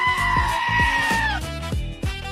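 Goat bleating loudly and close, a wavering nasal cry held for over a second, followed by a quick series of shorter bleats with no talk.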